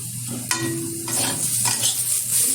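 Potatoes and cauliflower stems with poppy seeds sizzle in a pan on low heat as a spoon stirs them, a steady fry broken by a scraping clink.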